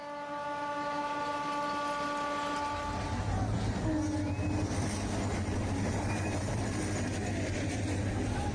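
An overcrowded passenger train on a pilgrimage route sounds a long multi-tone horn, and then its steady, loud rumble and rattling take over as it rolls past.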